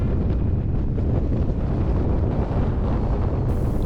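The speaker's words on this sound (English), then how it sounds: "The wind is getting worse now. Even if I have headwind, I have a hard time controlling my bike." Heavy Icelandic wind battering a motorcycle rider on the road, a loud, constant roaring rumble of gusts hitting the microphone, close and unbroken with no voices.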